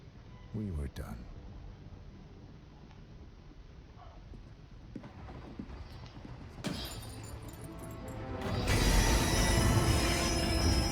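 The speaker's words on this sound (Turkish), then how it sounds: "Evet, kahramanımız trenimizi durduruyor." A train in the video game Hitman 3 grinds to a halt, with mechanical rattling and ratcheting over a low rumble that swells into a loud, broad rush of braking noise near the end.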